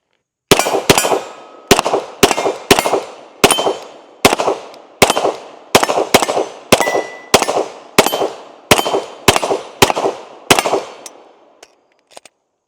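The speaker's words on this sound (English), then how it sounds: "let's take a few more shots with it" A Glock 17L pistol fires about twenty loud, sharp shots outdoors, mostly in quick pairs with brief pauses, each crack ringing into a short echo, and the string ends with a couple of faint metallic clicks.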